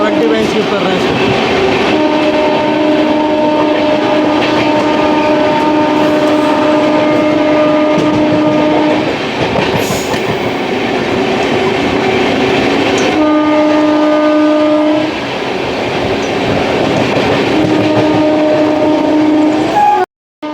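Amrit Bharat Express train rolling through Tundla Junction, a continuous loud rumble of wheels and wagons with long steady horn blasts sounding twice, a break near the middle, then another horn near the end.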